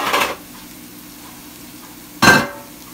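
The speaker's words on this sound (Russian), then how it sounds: "жарим на достаточно сильном огне" Belarusian potato pancakes (draniki) fry in a pan over fairly high heat, with a faint steady sizzle broken by two brief bursts of clattering pan and utensil noise, close up.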